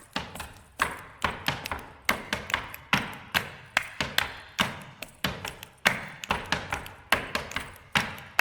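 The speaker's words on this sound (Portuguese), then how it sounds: "Sapatos batendo no chão." Shoes stamp on a hard floor in quick rhythmic clusters, sharp close thuds repeating steadily like a dance beat, with no voices.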